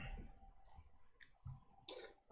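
A player's name typed on a computer keyboard during an ESPN fantasy football mock draft: a few sparse, light key clicks over a low room murmur.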